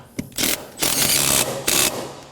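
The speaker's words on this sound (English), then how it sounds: "start it by hand, and snug it up" Ratchet wrench clicking in quick rhythmic bursts while snugging a bolt on the fuel pump cover of a 2014-2020 Acura MDX 3.5L V6, several close, loud runs of ratcheting with no speech.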